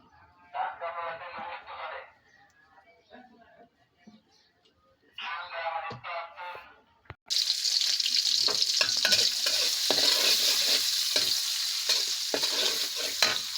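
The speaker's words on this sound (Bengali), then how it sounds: "পেঁয়াজ মরিচ দিয়ে দিয়েছি, ভেজে নেব।" Onions and chilies fry in hot oil in a wok: after quieter opening moments, a loud, steady, crackling sizzle starts abruptly and continues close up to the end.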